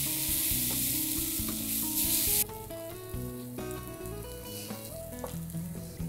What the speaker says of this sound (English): Get that in there with a little bit of oil. Mix it all around, get that cooked off for a couple minutes,